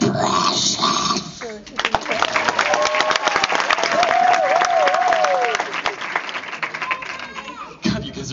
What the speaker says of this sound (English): and Marsha, help me out with the applause